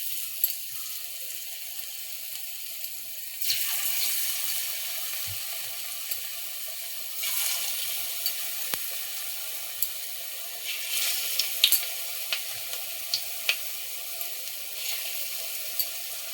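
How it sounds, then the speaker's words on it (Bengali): Ripe banana pakoras frying in hot white oil in a clay wok, a soft steady sizzle that surges in bursts as batter drops in, with small pops and clinks, close and without talk. "পাকা কলার পকোড়া মাটির কড়াইয়ে করব।"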